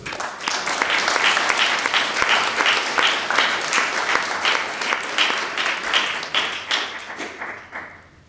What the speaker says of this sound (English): And I think Janet deserves all our applause and all our support